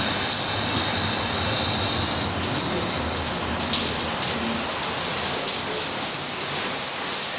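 A rain shower head runs steadily in a renovated bathroom in Paris, producing a dense, continuous hiss of falling water that stays close and even throughout with no voices.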